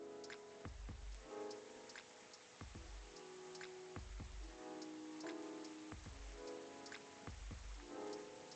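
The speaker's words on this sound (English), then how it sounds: "Still raining." Soft rain patters in a cozy cafe video game, a faint, steady hiss under a slow, rhythmic beat with regular low thumps.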